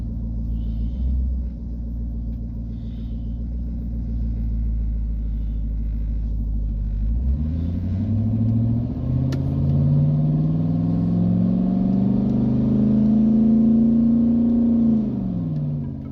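Car engine with a 4L60E automatic transmission, a low steady rumble that climbs as it revs up, with the pitch rising smoothly and then dropping back as the gearbox shifts at around 3,000 RPM, heard from inside the vehicle.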